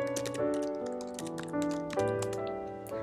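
Fingers tap a computer keyboard in quick, close, clicky bursts of keystrokes while entering a layer name in Pixelmator.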